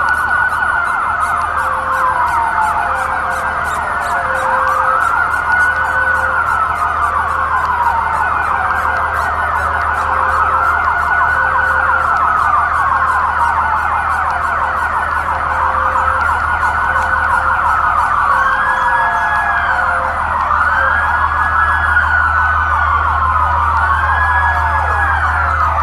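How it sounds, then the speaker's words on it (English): Emergency sirens wail steadily and loudly in a Seattle street, with continuous rising and falling tones sweeping without break over a low rumbling drone. "it really feel like they're using LRAD, and that's more than sirens"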